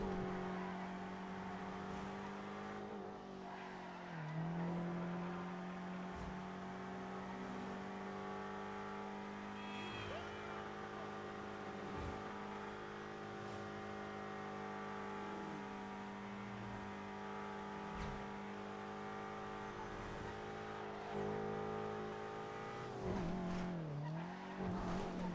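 A video game car engine drones at a steady high pitch, revving and shifting with brief dips and surges and occasional tire squeals, continuous throughout with no talk.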